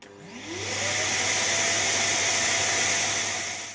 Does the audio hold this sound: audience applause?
no